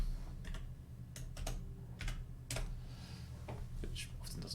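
Someone types a search query into Google on a computer keyboard, with quick irregular bursts of light key clicks and brief pauses between them, close and soft.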